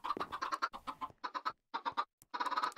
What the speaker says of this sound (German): Da ist noch ein Huhn, ey. Geh weg.